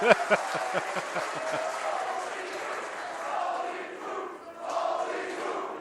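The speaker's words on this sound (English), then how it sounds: "This crowd is on his side." A wrestling crowd cheers for Orange Cassidy as a broad roar of voices rises and holds under a commentator's talk, with a few sharp rhythmic shouts or claps at the start.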